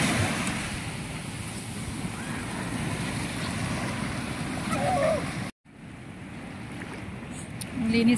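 Ocean surf at Bagasbas Beach in Daet, Camarines Norte, a broad steady wash of waves close by with wind noise, briefly cut off and then resuming.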